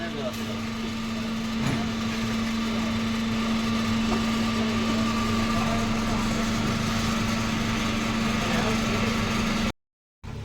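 A batasha biscuit machine with a rotating rack hums continuously with a steady tonal drone and mechanical rumble. The sound cuts off abruptly near the end.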